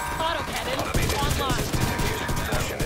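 Weapons fire in the video game The Division 2, a dense, continuous clatter of shots and impacts during a raid, loud and busy with overlapping bursts and players' voices under it.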